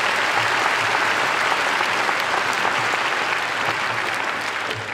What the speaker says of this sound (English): How about a round of applause for those students and their academic excellence?